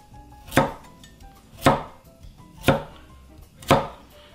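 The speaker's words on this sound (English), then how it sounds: "We're going to cut it into about 1-inch pieces." A knife chops a carrot into 1-inch pieces on a board, four evenly spaced, crisp thuds about a second apart, close and clear with no talking.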